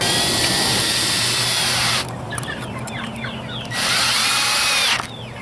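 Power drill driving screws through hinges into a chicken coop door, loud whirring bursts with a pause in the middle while chickens cluck nearby, no talking.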